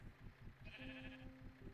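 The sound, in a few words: sheep bleating in a video game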